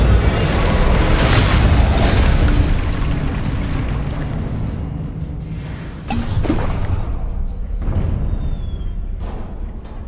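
The Incendio fire spell cast in the Hogwarts Legacy video game: a loud, roaring whoosh of flame surges for several seconds, eases, then flares again into a steady burning rush with faint crackles.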